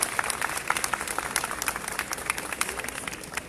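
A rally crowd at a demonstration in Reims applauds after an introduction, with dense, fairly close clapping and sharp individual claps standing out, some voices mixed in.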